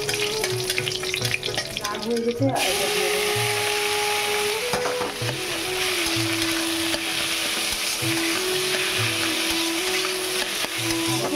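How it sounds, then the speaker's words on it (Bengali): Garlic and dried red chilies fry in hot oil for a radish greens dish, giving a continuous close sizzle with stirring, under brief talk and a faint steady background hum. "মূলো শাকটা এবার ভাজা করবো, তার জন্য রসুন আর শুকনো লঙ্কা নিয়ে নিয়েছি"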